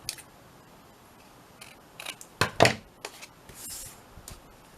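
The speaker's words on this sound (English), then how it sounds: "I just want to cut that little top piece off" Cutting a small top piece off a handmade pocket pouch: several sharp snips and crisp clicks close by, clustered in the middle with one loud burst, separated by quiet handling sounds and no talk.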